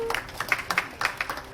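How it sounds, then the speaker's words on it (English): Scattered hand clapping from a small audience at a launch event introducing Saucony Philippines brand ambassadors, coming as a brief run of sharp, uneven claps at moderate distance that never builds into full applause. "Let's give him a round of applause."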